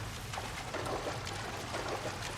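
Rushing water in L.A. Noire, a steady, fairly soft broadband wash pouring continuously with slight surging ripples.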